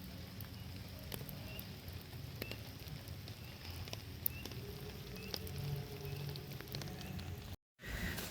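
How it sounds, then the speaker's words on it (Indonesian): Rain falls steadily on surfaces at an outdoor field-kitchen site, a faint, continuous patter with scattered sharper drops and a brief cut near the end. "Dalam kondisi hujan,"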